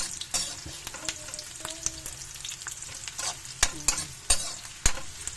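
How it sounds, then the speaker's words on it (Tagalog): Onion and garlic sauté in hot oil for bitter gourd with egg, a soft steady sizzle broken by repeated sharp scrapes and clinks of a spatula stirring in the pan, close up with no talking. "gisa natin ang ating mga sangkap guys para mabango ang sibuyas sa bawang"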